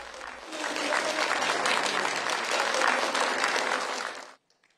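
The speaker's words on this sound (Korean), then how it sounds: "윤석열 대통령이 정부조직법 개정안에 서명하자 지켜보던 보훈 유족들이 환한 표정으로 박수칩니다." Families of veterans applaud as the South Korean president signs a government organization bill, a dense burst of clapping that holds steady for about four seconds, then stops abruptly.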